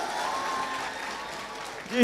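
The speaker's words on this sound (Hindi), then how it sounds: "तालियां बजा दो सर एक सब वीटी सर के लिए" Applause from a school audience at a Teachers' Day event, steady and moderate throughout, with murmuring voices faintly mixed in.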